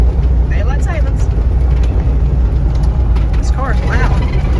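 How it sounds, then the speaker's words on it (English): Loud car driving along a road, with a steady low engine and road rumble throughout, plus faint rattles and occasional voices in the background. "This car is loud."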